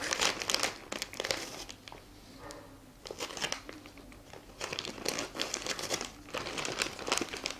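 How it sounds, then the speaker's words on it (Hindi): Swiggy food delivery package being opened, with repeated close crinkling and crumpling of plastic and paper packaging and occasional tearing bursts, no talk. "और अब मैं खोलूंगी ये स्विगी वाला पैक।"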